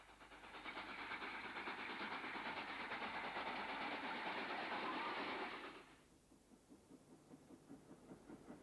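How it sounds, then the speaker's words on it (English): Class 5 steam locomotive 45481 hauls a Bradford-bound parcels train, a steady rumbling roar with rhythmic chuffing and wheel clatter for several seconds, then dropping away to a quieter rolling beat as it passes. "On another Bradford-bound parcels train is Class 5 45481 of Kingmore Carlisle shed."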